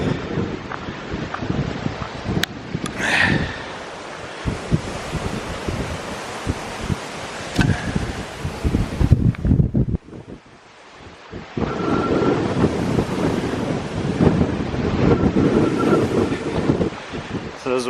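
Strong wind buffets the microphone on an exposed ridge of a burned sagebrush hiking trail, loud gusting roar with a brief lull near the middle before surging back, a voice faintly under it.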